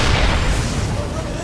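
Siege tank artillery fire in the StarCraft 2 real-time strategy game at a 2012 GSL match, heavy booming blasts merging into a loud, dense rumble throughout.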